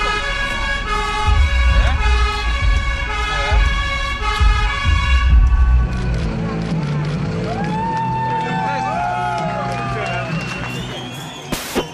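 Sirens from emergency vehicles wail at a street homecoming celebration for a darts player with about 1500 people, a loud steady horn tone at first, then wavering up-and-down siren sweeps mixed with crowd noise and voices.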